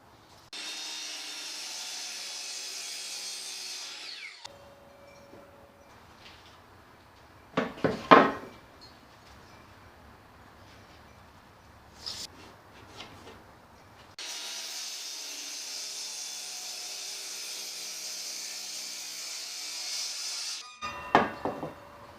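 Power saw cutting wooden laminate strips to about 28 inches length for a guitar neck blank in a workshop, two sustained loud cutting passes separated by quieter knocks and handling of the boards.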